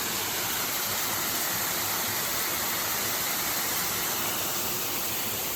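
Fairy Falls, a forest waterfall in the Columbia River Gorge near Portland, pours in a dense, constant hiss and rush, close and steady with no pauses or voices.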